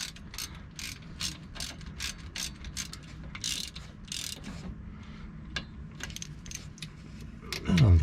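Ratchet clicking in quick repeated bursts while running bolts back down on a front driveshaft-to-axle U-joint, close and fairly loud, with a louder mechanical clunk near the end.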